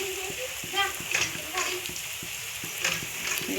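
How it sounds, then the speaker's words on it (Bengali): Meat spice paste with onion, green chili, ginger and garlic frying and being stirred in a pan, a steady close sizzle with periodic scraping strokes. "এখানে হচ্ছে মাংসের মশলাটা কষানো হচ্ছে পেঁয়াজ কাঁচা লঙ্কা আদা রসুন সব মশলা দেওয়া হয়ে গেছে"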